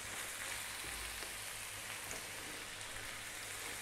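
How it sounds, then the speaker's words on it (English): Potatoes frying in a pan for aloo keema, an Indian ground beef and potato dish, giving a steady, even sizzle throughout with no voices. "we're gonna drop in our potatoes"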